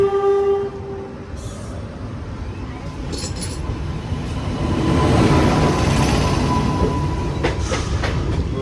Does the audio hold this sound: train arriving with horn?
yes